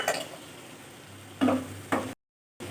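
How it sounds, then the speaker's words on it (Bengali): Sabudana khichuri being stirred with turmeric in a pan, a few short scraping bursts of spoon against pan over a quiet background, separated by pauses and a brief cut to silence. "খুলে আবার ওটা নেড়ে চেড়ে দিচ্ছি।"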